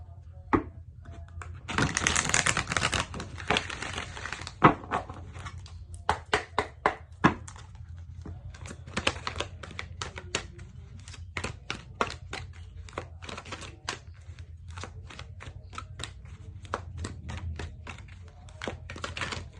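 Tarot cards being shuffled: a burst of riffling, then a long run of quick, crisp snaps and taps, close by in a quiet room.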